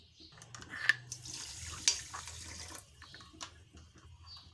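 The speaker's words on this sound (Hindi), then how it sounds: "और इसमें हम डालेंगे 1 कप पानी।" Water poured into a pan of sugar to start the syrup for boondi ladoo, a soft splashing trickle with a couple of brief clinks against the vessel, heard up close and fairly quiet with no talking.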